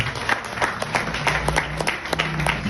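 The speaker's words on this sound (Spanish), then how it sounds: "Den un aplauso a Dios." A church congregation bursts into applause, a dense, steady round of clapping from many hands that carries evenly throughout, close and fairly loud.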